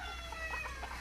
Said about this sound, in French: une poule Favrol naine foncée